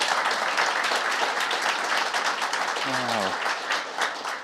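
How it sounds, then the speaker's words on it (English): A crowd gives a steady round of applause for the closing panel at a Disability Federation of Ireland event. The dense clapping continues throughout, and a person briefly speaks over it near the end. "So a round of applause for our last 4 panellists."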